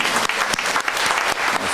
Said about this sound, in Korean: 따뜻한 박수 한번 해주시죠.